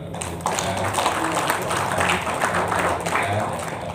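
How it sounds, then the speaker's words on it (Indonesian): Audience applause at a tenth-anniversary celebration of Madrasah Aliyah Negeri Insan Cendekia Jambi, a steady wash of many hands clapping in a hall, held fairly loud throughout with a faint voice underneath. "Tepuk tangan untuk para pendahulu kita"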